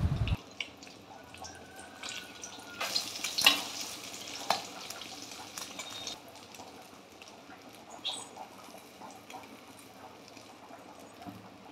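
Egg omelettes with chopped onion fry in a pan, giving a low steady sizzle with a brief louder burst of spattering partway through and faint clinks, no talking.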